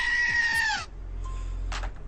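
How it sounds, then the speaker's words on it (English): A screaming-goat sound effect: one loud, strained goat-like bleat followed by a shorter, weaker cry, both set over a low, steady hum. "Screaming Goat makes it better."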